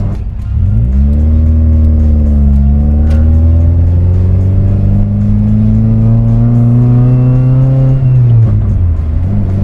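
A Toyota Great Corolla's 4A-GE engine revs at half throttle: a loud, close roar climbs quickly, holds a strong steady drone for several seconds with a slight rise, then drops back near the end.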